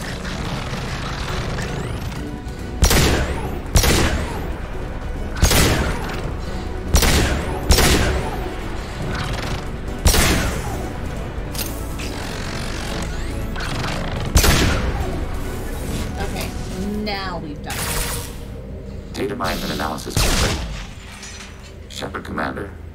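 Rocket launcher fire and explosions in a video game: a rapid series of heavy booming blasts at irregular intervals over a continuous rumbling battle din, with occasional voices.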